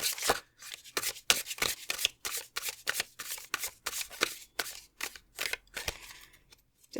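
Tarot cards from the Forest of Enchantment deck are shuffled and drawn by hand, giving a rapid run of crisp, close riffling and flicking bursts with short pauses between them.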